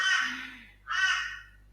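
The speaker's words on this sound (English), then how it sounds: "No, they're not magpies. They're definitely crows." Crows give two loud, harsh caws close by, each about half a second long, with a short silent gap between them and no talking.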